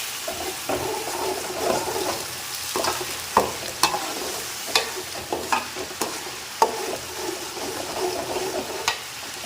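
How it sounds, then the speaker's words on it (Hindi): Masala sizzling and frying in a pan while being stirred, with a steady hiss broken by repeated scraping strokes of a spoon, close and fairly loud, no talking. "तो इतनी देर में मसाला भुन के होगा तैयार"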